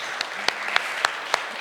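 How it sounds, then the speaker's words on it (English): Applause breaks out from the audience at a blockchain conference talk, a brief wash of clapping with a few sharp, distinct claps standing out. "Let's give him an applause for him."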